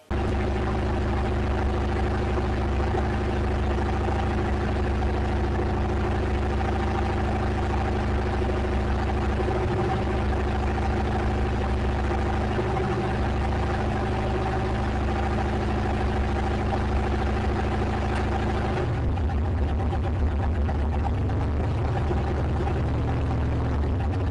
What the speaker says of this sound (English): I'm running up the truck here, and I'm noticing this engine always had kind of a weird noise in it.